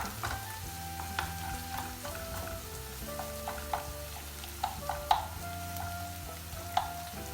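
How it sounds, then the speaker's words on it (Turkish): Tomato-pepper paste sizzling in a pan with onions and capia peppers, a soft steady fry crackling quietly with occasional sharp spatters and clicks, faint and close, with no voices. "Onunla da şöyle salçanın kokusu gidene kadar kavuralım."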